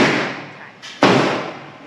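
A single sharp Glock 20 pistol gunshot cracks loudly about a second in, with a brief decaying echo afterward and a faint earlier click-like sound.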